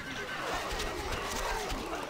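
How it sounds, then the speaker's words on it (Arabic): A horse whinnies in a shaky, rising neigh over a dense background of game music and effects in Stronghold: Crusader. "الفرس تعدو"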